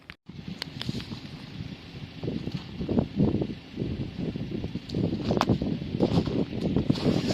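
Wind buffets a microphone on a cold boat launch day at the water's edge, a continuous rough rush with gusty swells and scattered knocks, steady throughout with no voices.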